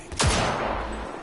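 Gunfire in Cyberpunk 2077, a single sharp, loud shot ringing out and trailing off into a rumbling echo.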